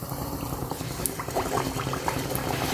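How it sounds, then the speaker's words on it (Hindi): Kachoris deep-frying in hot oil in a large kadhai over a low flame, a steady bubbling hiss with dense crackling and a sharper pop near the end. "इसे मैं लो फ्लेम पर फ्राई कर रही हूँ।"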